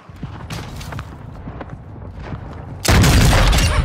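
A grenade explodes with a loud, sudden burst that fills the sound in a Call of Duty match, following scattered gunfire and footsteps in the game's combat noise.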